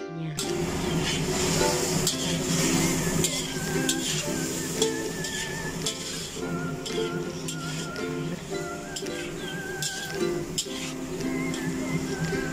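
A spatula scrapes and stirs chicken liver and bell pepper in a hot pan, with steady sizzling and frequent clinks of metal against the pan, close and continuous.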